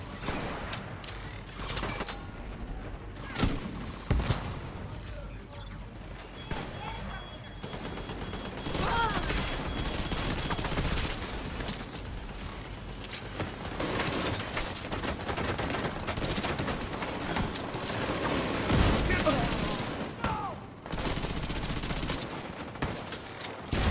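The Division 2 Season 9 cutscene gunfire, with sustained automatic bursts and scattered shots rattling under a loud, busy battle mix for the whole stretch.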